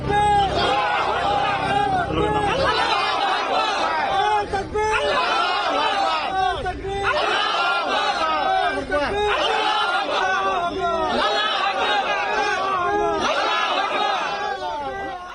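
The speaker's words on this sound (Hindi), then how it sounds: "मुस्लिम समाज के लोगों ने मस्जिद को लेकर के जम करके नारेबाजी भी की।" A large crowd of Muslim community members at a Babri mosque foundation event in Bengal, loud massed voices rising in repeated chanted bursts of slogans with shouting, a rhythmic call-and-response swell recurring every couple of seconds.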